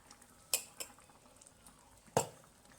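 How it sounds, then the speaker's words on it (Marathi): Spoon scraping and clinking against a pot while ground masala paste is stirred into a thick tiger prawn gravy, three sharp clanks spaced apart over a quiet background. "वाटण चांगलं मिक्स करून घेऊ"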